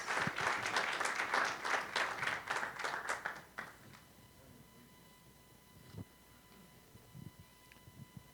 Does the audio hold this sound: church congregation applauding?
yes